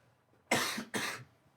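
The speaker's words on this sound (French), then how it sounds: "je vais tousser" A man gives two quick, close coughs back to back in a quiet radio studio, loud and harsh, with no talking.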